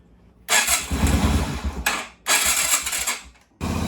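A Yamaha Virago XV250 V-twin motorcycle cranks and catches while the throttle is pumped, giving loud, close bursts of rough engine noise in three surges separated by short gaps.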